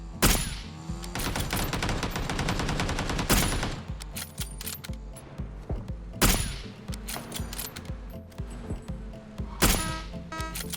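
Rapid gunfire in PUBG, with dense strings of quick shots broken by a few louder, sharper single reports, close and loud with no talking.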